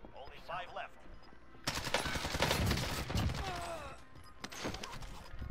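Gunfire in the video game Warzone: a burst of rapid automatic shots follows a quieter stretch, with further shots near the end, heard under faint talk.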